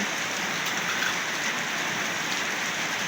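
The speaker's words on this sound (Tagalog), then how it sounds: "Kanina pa po ulan ng ulan mga kapiks" Even, continuous rainfall pours down, a dense broadband hiss with no voices or other sounds, moderately loud and steady from start to finish.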